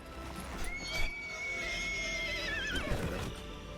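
A horse neighs and rears in the fantasy MMO Ashes of Creation: a loud, drawn-out whinny that wavers and trails off, with hoof clatter underneath.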